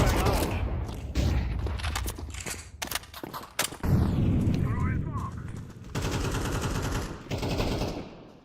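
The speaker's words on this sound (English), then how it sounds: "Flashbang out." Flashbang grenade detonating in the video game Counter-Strike 2, a sharp bang lost among a dense run of close gunfire bursts and booming impacts throughout.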